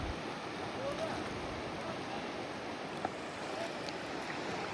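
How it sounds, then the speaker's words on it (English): A fresh river flows steadily in Takhar, Afghanistan, beside a shaking footbridge, making a soft, continuous broadband rush with no clear breaks, faint and even throughout. "This is the river. It's very fresh."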